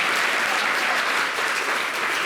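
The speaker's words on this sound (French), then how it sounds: "Merci de l'applaudir." Studio audience on a television talk show applauding, dense unbroken clapping held at an even, fairly loud level throughout.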